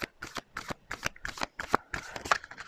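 Tarot cards being shuffled up close, a rapid run of crisp riffling and slapping bursts with brief gaps, fairly quiet and with no talking over it.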